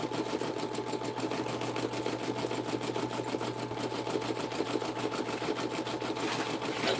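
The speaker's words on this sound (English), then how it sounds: "I am going to back up a couple of stitches to the first part of this earring and start over" Embroidery machine stitching a butterfly earring design, a fast steady mechanical needle rattle with a constant motor hum, close and continuous throughout with no talking.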